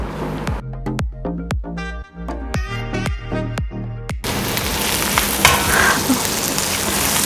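Garlic and ginger go into hot coconut oil for a chicken stew. A few wet plops and clinks come first, then a loud, steady sizzle of frying sets in and keeps going close by.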